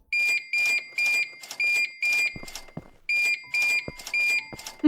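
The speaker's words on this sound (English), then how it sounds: "I can't believe how much beeps there are" Bursts of loud electronic alarm beeping from Plant Nursery Sim repeat in a steady rhythm, pausing briefly before resuming, with no talk.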